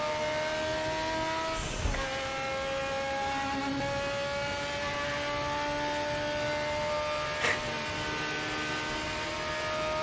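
A Ford Capri engine held at full throttle in the RaceRoom Racing Experience game, a loud sustained droning engine note with steady harmonics and brief dips at two gear or lift points, no voices.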